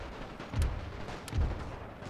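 Artillery fire in The Great War 6.0, a World War I strategy video game: two deep booming shots about a second apart, mid-distance, each a heavy low thud over a rumbling battlefield.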